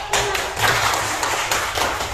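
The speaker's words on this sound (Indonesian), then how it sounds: "alhamdulillah tepuk tangan" Children in an Indonesian primary classroom clap their hands together in a steady run of close, sharp claps lasting about two seconds, with no talking over them.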